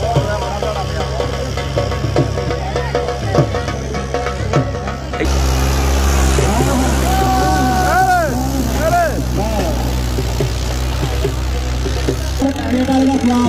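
Tractor engine (a 480 model) pulling a disc harrow in a disc competition round near Faisalabad, a steady loud diesel drone throughout with a deeper surge midway, crowd voices and shouting over it.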